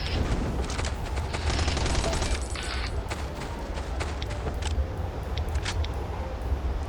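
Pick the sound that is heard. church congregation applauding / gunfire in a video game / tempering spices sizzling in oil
gunfire in a video game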